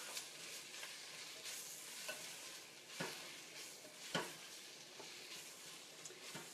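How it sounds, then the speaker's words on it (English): Garlic frying in a pan being stirred, a faint steady sizzle broken by a few soft knocks and scrapes of the utensil, close and quiet with no voices. "We're going to keep stirring this up."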